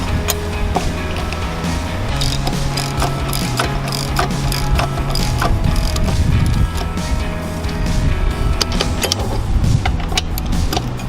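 Steady close ratcheting of a socket wrench snugging down the bolts on a boat's jack plate, with a busy stream of clicks and mechanical creaks running continuously under an ambient hum.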